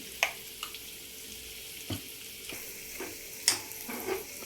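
A curry being stirred in a frying pan after garam masala goes in, with a low sizzle underneath and a few scattered scrapes and clinks of the spoon against the pan.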